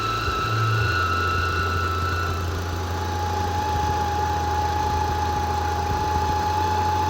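A Mitsubishi 4G63 engine idles with a steady drone, and a thin, continuous whistle from the timing belt area runs through it for the whole stretch, loud and close with no talk.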